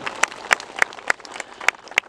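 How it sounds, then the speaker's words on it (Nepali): Sparse, evenly spaced hand claps ring out at a gathering in Chinde Danda, a handful of sharp, fairly close claps with quiet gaps rather than a dense ovation. "एकचोटि जोडले ताली बजाएर सबैजनालाई धन्यवाद"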